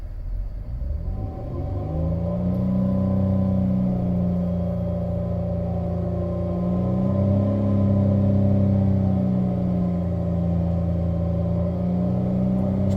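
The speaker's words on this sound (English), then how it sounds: "Just going to cycle a bit the RPMs" A car engine with roughly 265,000 miles idles and is revved up and down in slow cycles while the air conditioning kicks on and off, a steady close rumble with rising and falling pitch and no talking.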